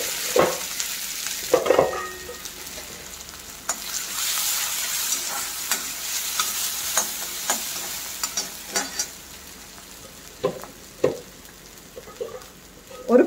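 Mustard seeds splutter in hot oil with a continuous close sizzle and scattered sharp pops and crackles that come irregularly over several seconds, with occasional utensil knocks and no speech.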